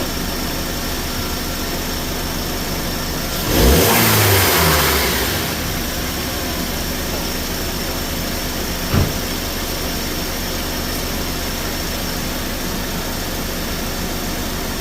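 A car engine with over 200,000 miles idles steadily, then revs in one brief burst that fades back to idle, followed later by a single short blip. The sound is close and moderately loud, and no one speaks.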